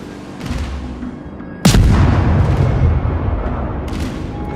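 Heavy warship cannon fire from a German battleship in a naval combat video game: one sudden loud boom with a long rumbling tail, over a steady din of background battle noise.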